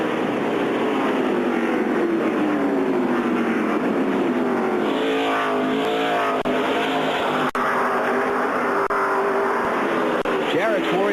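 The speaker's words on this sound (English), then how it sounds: "Mike Wallace trying to take fifth from Johnny Benson" NASCAR stock cars race around a track, their engines roaring loud and continuous as pitch sweeps rise and fall while the cars pass, with a race commentator talking over the noise.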